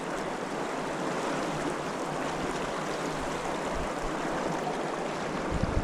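A river flows steadily close by, a continuous full rush of moving water with no talking over it.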